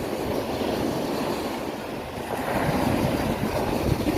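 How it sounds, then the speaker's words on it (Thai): Surf washes steadily onto the shore at Nam Rin Beach in Ban Chang, Rayong, a continuous loud roar of breaking waves with no talk. "คลื่นซัดเข้ามาหาฝั่ง"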